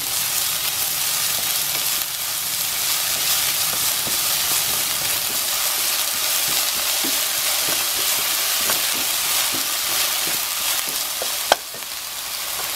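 Chopped onion fries in a pan with garlic for an eggplant omelette, giving a steady loud hissing sizzle with occasional crackles and stirring clicks, nearby and continuous.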